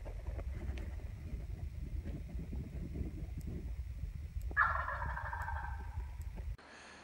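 Wild turkeys gobble in the distance over steady wind rumble, one loud rattling gobble standing out near the end.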